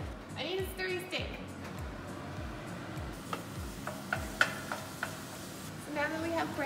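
Beef mince is stirred while browning in a hot pan, with soft sizzling and a few sharp scrapes and taps of the stirring utensil against the pan, mostly under nearby speech.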